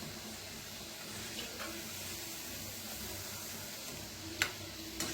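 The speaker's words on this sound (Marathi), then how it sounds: "तर छान असे तळायला लागलेले आहेत" Moong dal pakoras deep-fry in oil with a soft, even bubbling sizzle throughout, fairly quiet and steady, with a couple of brief sharper crackles near the end and no voices.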